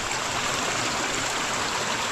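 A river flows at dusk in a continuous broad rushing wash of water, steady and fairly close, with no voices.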